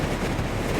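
Puma's racing yacht Il Mostro surfs down ocean waves, broadband rushing water and wind roar filling the whole moment steadily and loudly at close range, with no voices.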